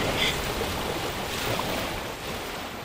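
Ocean waves wash in at Jericho Beach in Vancouver on a chilly March day, a steady broadband surf hiss mixed with wind noise, continuous and moderately loud with no voices.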